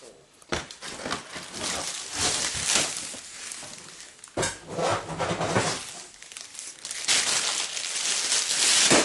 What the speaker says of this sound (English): Let me quickly unwrap all of this.